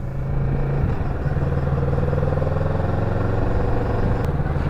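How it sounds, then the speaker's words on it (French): A 2017 Kawasaki Z650 motorcycle engine runs with a steady, muffled low rumble at close range, holding an even idle-like drone throughout. "Le bruit est assez étouffé, mais le moteur a l'air quand même rageur."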